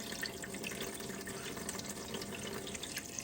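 Water runs steadily through a Blue Bowl gold concentrator processing Home Depot sand. The trickle is continuous and fairly quiet, with nearby splashing and no talk.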